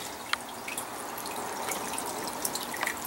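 Water pours into the sump tank of an aquaponic greenhouse, a steady close trickle and splash with scattered drips for about three seconds and no voices.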